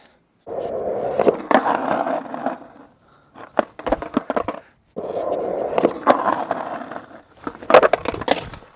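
Skateboard wheels roll and grind across rough ground in two passes, each broken by sharp, loud cracks and clacks as the board's tail strikes down.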